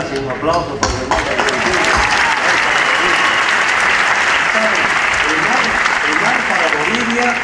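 A large university audience in Paraná bursts into loud, sustained applause after an honorary doctorate speech, a dense roar of clapping that swells within the first second and holds evenly, with cheering mixed in.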